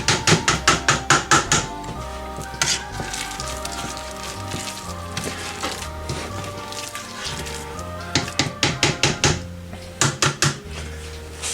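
Potatoes being mashed in a pot: quick runs of loud, rhythmic thumping strokes in bursts at the start and near the end, with quieter scraping and knocking in between.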